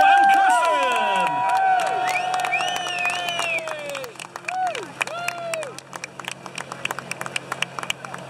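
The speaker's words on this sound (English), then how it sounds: "Let's have a huge big cheer for Bo and Kirsten." A crowd at a flyboard show during Seafest in Galway cheers and applauds, with loud whooping voices at first, then scattered claps continuing as the cheers fade, while a steady hum runs underneath.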